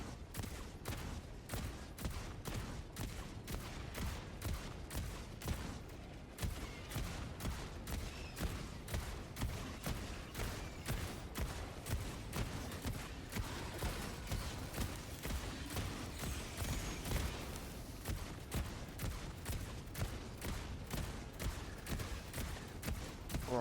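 An autocannon exosuit in Helldivers 2 fires a long, steady string of heavy shots, booming at an even rhythm of about two per second for over twenty seconds, with only a brief pause early on.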